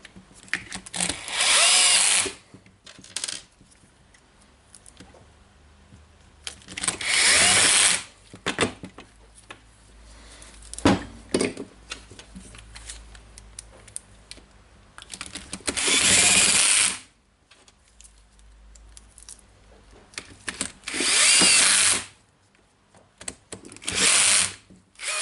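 A tired old cordless Bosch drill drives screws into a housing in several loud whirring bursts of a couple of seconds each, separated by quieter clicks and handling noises.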